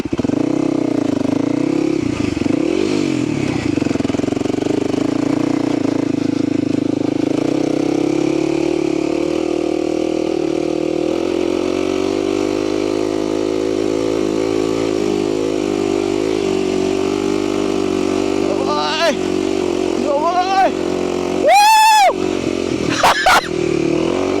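A motorcycle engine drones steadily and close for a long stretch, its pitch shifting as it rides, with a few sharp revs near the end.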